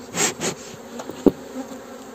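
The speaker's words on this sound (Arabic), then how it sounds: "لما يرجع النحل السارح للخلية" Honeybees droning around a hive as foragers return, a steady close buzz with a few louder passes of individual bees near the listener.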